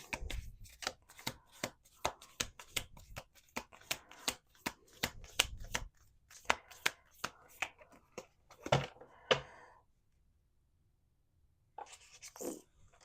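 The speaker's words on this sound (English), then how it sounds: "One more shuffle." Rapid riffle-shuffles of playing cards come in quick bursts of crisp flapping clicks, repeated many times, close and fairly loud, then fading to quiet.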